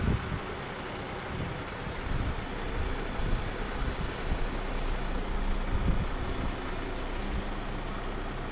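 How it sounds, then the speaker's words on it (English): Steady, blustery wind roars across the microphone for the whole stretch, a constant low rumble with a faint wash like distant surf beneath it. "And it's windy today."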